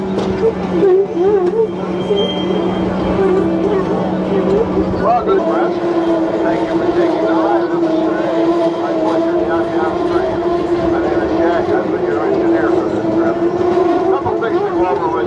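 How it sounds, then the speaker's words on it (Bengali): A blue train ride at a tulip garden: a loud, continuous rumble of the moving train with a steady tonal drone and clatter, overlaid by people talking nearby. "আমরা উঠেছি একটা ব্লু ট্রেনে তো ট্রেনে উঠতে আসলে ভালোই লাগে"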